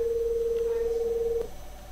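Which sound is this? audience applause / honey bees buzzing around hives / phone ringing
phone ringing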